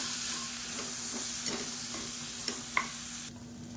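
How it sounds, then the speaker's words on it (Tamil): A spoon stirs boiled chickpeas into spicy masala sundal in a pan, making a soft continuous sizzle with repeated scraping strokes and a few sharper clinks near the end over a low steady hum. "இதையும் சேர்த்து நல்லா ஒரு பரட்டிக்கலாம்"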